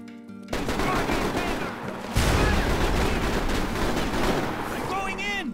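Rapid, dense gunfire from the hunting pistol in Mercenaries 2: World in Flames, with loud shots piling into a continuous volley after a quiet start and voices shouting through the firefight.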